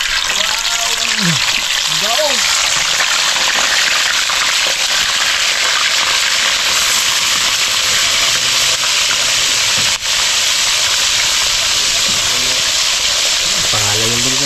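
Food fries in a hot pan with a constant loud sizzle and hiss, while people talk and a voice calls out over the frying.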